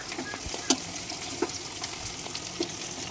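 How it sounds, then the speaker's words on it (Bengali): Whole garam masala and bay leaves fry in hot oil for homemade chicken biryani, a quiet steady sizzle with a few soft stirring taps, no voices. "আর এই তেলের মধ্যেই দিয়ে দিয়েছে গোটা গরম মশলা আর তেজপাতা।"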